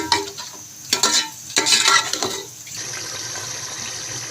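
A spice masala mixed with yogurt sizzles as it roasts in a pan for chicken biryani: irregular scraping, stirring bursts at first, then an even, steady hiss.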